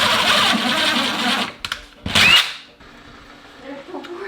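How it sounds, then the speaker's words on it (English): A power drill bores into a kitchen wall for an open shelf, with a loud steady whir for about a second and a half. A short burst follows, then a second louder burst, and the rest fades to quiet room noise. "let's see if we can drill a hole in it."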